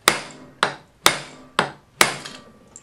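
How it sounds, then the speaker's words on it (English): Five sharp metallic whacks from a hammer-style inertia bullet puller, evenly spaced about half a second apart, each ringing briefly before the next strike, close and loud. "don't worry about how hard you hit the hammer because it's meant to be hit hard"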